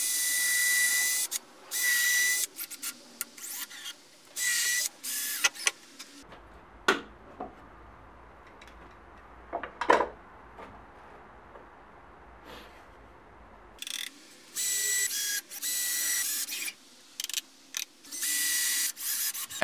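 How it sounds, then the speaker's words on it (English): A power drill bores through a wooden back wall and a clamped part together, coming in several loud bursts of whirring with pauses between, plus quieter handling noises midway. "drill the back wall and the part at the same time and screw it together"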